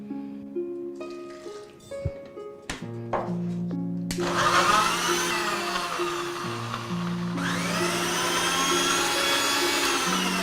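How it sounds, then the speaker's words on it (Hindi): Kitchen mixer grinder blending chopped fruit pieces with a little water: after some clattering and background music, the motor whirs up to a loud, steady high-pitched grind, briefly dipping and resuming under continuing music. "इस तरह से थोड़ा सा पानी डालकर इनको हम पीस लेंगे।"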